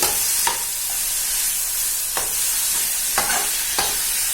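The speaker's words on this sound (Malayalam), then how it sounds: "ഇനി നമുക്ക് മീൻ ഇട്ട് കൊടുക്കണം. എന്നിട്ട് അതൊന്ന് മിക്സ് ചെയ്ത് കൊടുക്കണം." Fish being stirred into biryani masala in a pan, a steady close sizzle broken by several short spoon scrapes and knocks against the metal.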